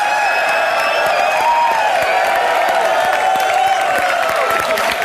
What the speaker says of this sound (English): That's something that deserves a round of applause